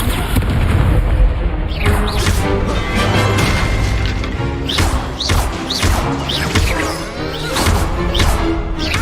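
Repeated Confringo fire-blast spells in the Hogwarts Legacy video game, a loud, continuous stretch of booming explosions and crashing bursts layered over dense game music and effects, with no let-up across the whole span.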